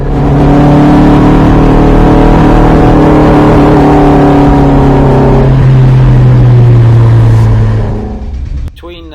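A Marcos race car engine running rough on track at Donington, a loud steady in-car drone with the pitch holding then dropping as it falters near the end, with a voice speaking over it.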